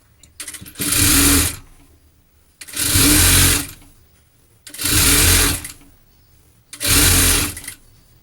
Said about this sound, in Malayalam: നമുക്ക് അതിൻ്റെ അടിവശം മുഴുവനായിട്ട് സ്റ്റിച്ച് ചെയ്തെടുക്കാം